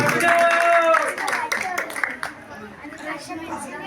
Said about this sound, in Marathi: व्हेरी गुड, टाळ्या वाजवा याच्यासाठी